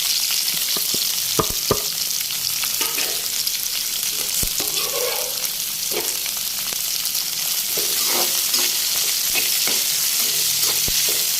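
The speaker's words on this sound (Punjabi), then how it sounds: "ਪਿਆਜ਼ ਨੂੰ ਬਰਾਊਨ ਹੋਣ ਤੱਕ ਆਪਾਂ ਭੁੰਨਣਾ" Onions fry in oil in a kadai, a steady close sizzle broken by repeated scraping and knocking clicks as a spoon stirs them.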